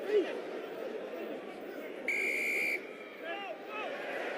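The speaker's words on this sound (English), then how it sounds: "The referee's whistle blows." A rugby referee blows one sustained whistle blast at an Ospreys versus Munster match. It lasts under a second and rises clearly over steady stadium crowd noise and commentary.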